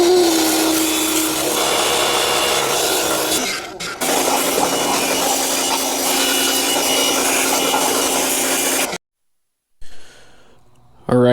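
Pressure washer blasting a deer skull for a first-time DIY European mount, a loud steady hiss and spray running almost continuously, briefly dipping once and then cutting off near the end before a short, quieter burst resumes.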